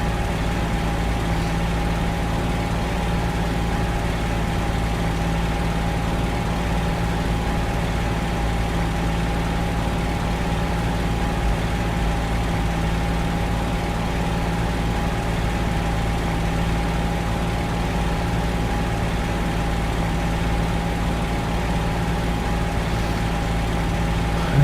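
A P-40E-1 fighter's piston engine idles and rumbles steadily through a taxi in IL-2 Great Battles, a constant low drone with a faint tonal hum, unbroken and without talk for the full stretch.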